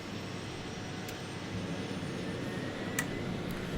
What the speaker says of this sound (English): the engine is slowly starting up, and here we go, self-sustaining RPM is reached